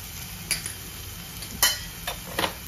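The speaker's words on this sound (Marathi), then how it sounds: "आपण जरा तेलात परतवून घेऊया. तर त्याच्यात आपण सुके मसाले टाकत जाऊया." Dry spice powders stirred into hot oil in a pan for raw jackfruit biryani: a faint, low sizzle underneath a few sharp clinks and scrapes of a spoon against the pan.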